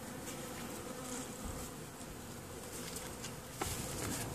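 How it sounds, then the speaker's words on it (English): A dense, steady buzz of many honeybees fills the whole stretch, continuous and close, as a package of bees is shaken into a hive, with a brief knock near the end. "Now he's shaking the package so the bees go to the bottom"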